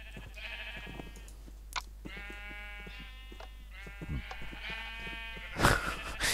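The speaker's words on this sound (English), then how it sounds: "the sheep are hovering about all over the place." Sheep bleat repeatedly in Minecraft, a series of clear, wavering calls at moderate volume against a quiet game background, followed by a brief louder burst near the end.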